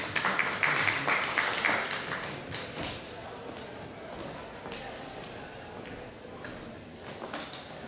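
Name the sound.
audience applause at a summit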